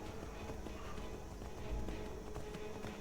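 A horse gallops in a video game, its hooves drumming as a quick, continuous clip-clop under a dense, busy background mix, fairly quiet overall.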